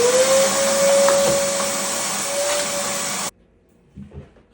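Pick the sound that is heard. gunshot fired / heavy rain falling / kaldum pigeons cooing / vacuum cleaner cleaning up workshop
vacuum cleaner cleaning up workshop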